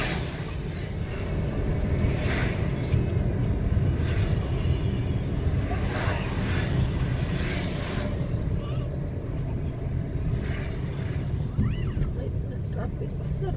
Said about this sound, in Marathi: ट्रॅफिक सुरू.